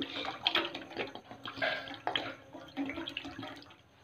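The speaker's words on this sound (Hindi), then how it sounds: "और ये मैंने गन्ने का रस शामिल कर दिया" Sugarcane juice being poured into a pan for kheer, a steady splashing liquid stream of moderate loudness that runs throughout, with no talking.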